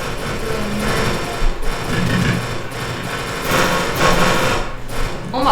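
Rapid gunfire in War Thunder's Rolling Thunder mode, a dense, continuous mechanical rattle of shots and clatter with a few louder bursts, steady and close throughout.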